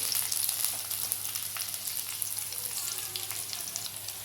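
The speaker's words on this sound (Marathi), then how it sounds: "आता मी लसूण आणि हिरवी मिरची घालून घेते भाजून घ्यायचं टाकून व्यवस्थित तेलामध्ये" Garlic and green chillies fry in oil, a close, steady crackling sizzle with small pops, moderately loud at first and easing slightly, with no one talking.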